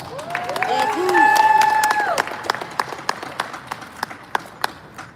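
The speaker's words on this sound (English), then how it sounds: "bring up to the microphone with a nice round of applause" Applause from an audience at a boxing fight-week press conference builds into a short burst of clapping, with a few tonal electronic sweeps layered in at the start, then thins to scattered individual claps.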